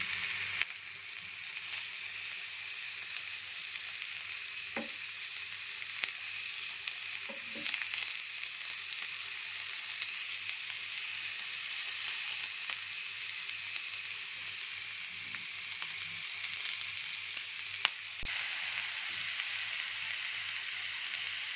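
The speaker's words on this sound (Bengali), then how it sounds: "একটু হালকা মৃদু তাপে এটাকে একটু ভাজতে হবে" Dried lottia fish paturi wrapped in gourd leaves fries gently on low heat, giving a steady, soft sizzle throughout with a few faint taps from the pan and no talking.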